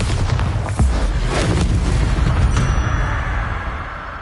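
Bombarda spell explosions in Hogwarts Legacy combat, a dense rumbling blast with deep booming bursts and crackling debris, loud and continuous before slowly fading.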